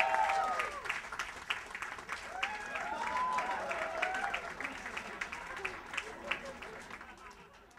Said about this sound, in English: Start clapping, start clapping.